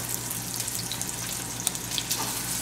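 Salmon fillets laid into hot oil in a pan for almond curry salmon give a steady, even sizzle and crackle, close and moderately loud, with no talking over it.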